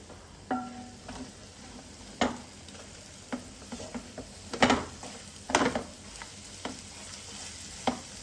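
Ginger and garlic frying in a pan for a korramenu fish curry, with soft sizzling broken by intermittent stirring scrapes and light clinks of a utensil against the pan, no voices.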